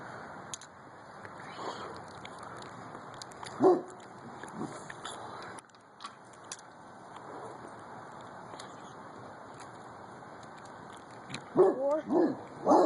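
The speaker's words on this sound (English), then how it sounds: "Shut up, dogs." Dogs barking outdoors near a bottle explosion setup, short scattered barks and yips that come and go over steady background noise, with a few louder bursts near the end.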